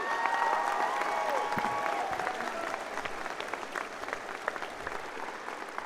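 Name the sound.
round of applause for graduates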